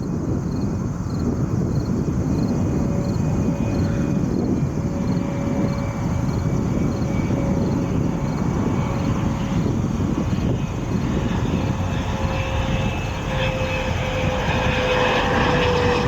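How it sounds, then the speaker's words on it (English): A DHL Boeing 767 cargo jet arrives at Chicago O'Hare on the far side of the field. Its engines give a steady, broad, continuous roar with a faint whine, heard from a distance and partly muffled by wind. "A DHL 767 coming in on the far side from Leipzig."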